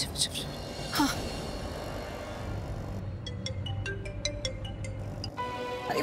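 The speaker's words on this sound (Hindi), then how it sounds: "अरे फोन उठाओ, बहुत जरूरी है शिवांश, जल्दी फोन उठाओ।" A repeating electronic ringtone chirps in short regular pulses for a few seconds over a low rumbling background hum.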